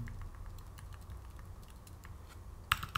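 Quiet clicking of a computer keyboard during typing, a few soft scattered keystrokes over low room noise, then a sharp cluster of louder clicks near the end.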